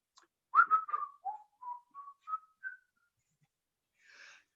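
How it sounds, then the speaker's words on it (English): A person whistles a short melodic phrase alone: a quick run of notes followed by several separate, longer held tones that step gradually upward, clear and fairly close, with a faint brief sound near the end. "I need to learn to smile and whistle."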